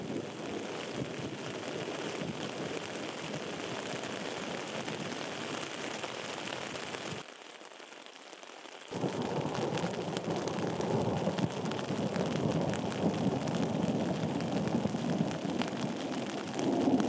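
Steady rain falls at an Adirondack campsite during a spring backpacking thunderstorm, a continuous close hiss that briefly drops away for about two seconds before returning stronger and denser.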